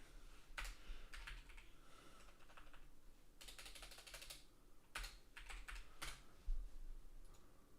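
Computer keyboard keys pressed in quick clusters of soft, close clicks with brief pauses between bursts, over a quiet room hum.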